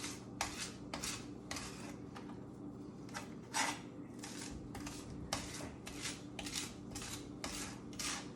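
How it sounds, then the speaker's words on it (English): Garlic with coarse kosher salt being smashed and worked under a knife, a close series of about a dozen sharp scraping, pressing strokes in an uneven rhythm, with no one talking. "you can put some kosher salt or some on the garlic, and then just take your knife and smash it in."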